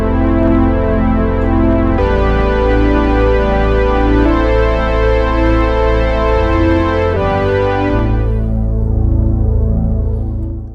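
TAL-U-NO-LX synthesizer playing a thick, loud sustained chord with the sub-oscillator and sawtooth wave added, a buzzing rich tone that shifts a few times before fading out at the end.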